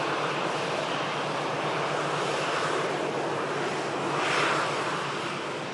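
A SunExpress airliner arriving from Antalya at Manchester Airport, a steady broadband jet roar at a distance that swells slightly near the end, with wind-like rushing throughout and no talk.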